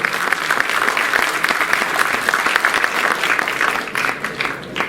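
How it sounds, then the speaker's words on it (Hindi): A hall audience gives sustained, dense applause welcoming the chief guest at a Brotherhood Foundation ceremony. The clapping is steady and full for the whole stretch, then thins slightly toward the end. "आप सबसे गुजारिश करता हूँ जोरदार तालियों से उनका स्वागत अभिनंदन करें।"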